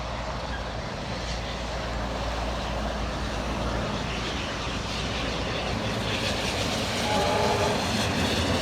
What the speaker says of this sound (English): Here we see the loco passing us at Menangle Bridge in the Southern Highlands.